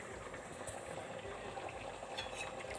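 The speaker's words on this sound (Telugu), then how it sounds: "ఎగ్ కర్రీ ఇప్పుడు ఎలా బాయిల్ అవుతుందండి మీరు చూడండి" An egg curry simmering in a pot, cooked in just water, gives off a faint, steady bubbling hiss with soft irregular pops and no voices.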